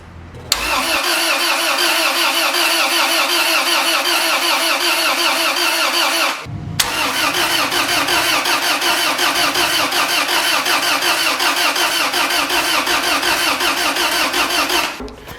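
A turbocharged Honda EK hatchback with a swapped F23 engine cranks over on the starter without firing, a loud, steady rapid churn that runs nearly continuously with one brief pause midway.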